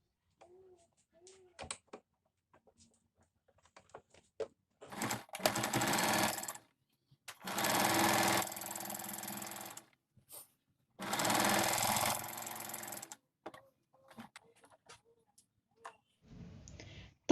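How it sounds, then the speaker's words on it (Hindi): Sewing machine stitching the folded hem of palazzo pants, heard in three separate runs of a few seconds each with quiet pauses of small clicks and handling between them, close and clear with no talk. "अब हम इसी के ऊपर सिलाई लगा लेंगे।"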